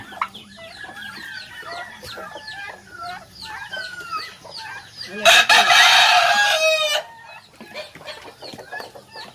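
Chicks and chickens on a small farm where ducks and turkeys are also kept, with a chorus of high peeping and clucking and a loud rooster crow bursting out midway.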